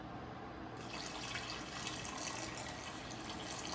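Water pours steadily into a pot of quinoa, vegetable broth and salsa ingredients as a one-pot Mexican dish cooks, a continuous moderately loud rushing stream with no talking.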